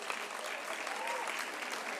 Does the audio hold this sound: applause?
yes